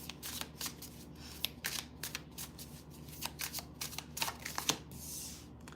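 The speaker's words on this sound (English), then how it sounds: "Get one more shuffle." Tarot cards riffle and slap as they are shuffled, a quick run of crisp flicking bursts over low room hum, fairly close but soft.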